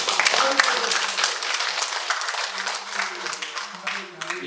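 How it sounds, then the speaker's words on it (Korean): Audience applause at a political talk event, a dense burst of many hands clapping filling the whole stretch, fairly loud and close, with a voice faintly mixed in. "박수 한번 칩시다."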